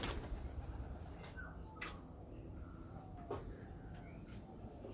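Kolshi-neck pigeons coo in a loft where fresh chicks have hatched, soft throaty calls rising now and then over a constant hissy background, fairly faint and unhurried.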